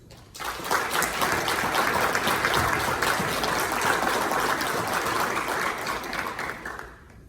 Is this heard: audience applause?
yes